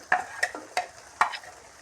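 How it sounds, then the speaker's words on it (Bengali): Jackfruit seeds with onion and green chili frying in fish-frying oil, heard as soft sizzling broken by about five sharp stirring scrapes of a spatula against the pan, close and fairly quiet. "মাছ ভাজার তেলে আমি ছেড়ে দেবো এখন পেঁয়াজ আর কাঁচামরিচটা আমি ভালো করে তেলে এখন ভেজে নেব"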